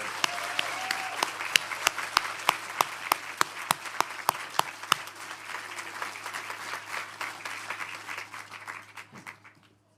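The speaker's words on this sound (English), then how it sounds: "please give a big round of applause to this year's winner of the Eilish Dillon Award, Eilish Fisher for Fia and the Last Snow Deer" Audience applause for a children's book award winner at an awards ceremony, a steady crowd of hands clapping with one sharp, loud clapper standing out in even beats near the front, fading away at the end.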